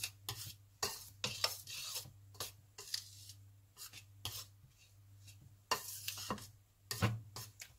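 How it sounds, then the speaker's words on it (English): A table knife works through scone dough in a bowl, giving repeated soft scraping and clattering strokes at an uneven rhythm, close and fairly quiet with no talk. "mix it then with the knife again, just to avoid hot hands until the last minute"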